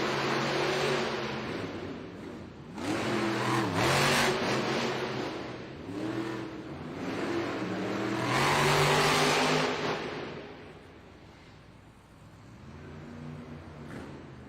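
Monster trucks, including Stone Crusher, racing side by side toward the finish line in an indoor arena, big engines revving and surging in repeated loud waves of acceleration, with a roaring peak near the end of the run.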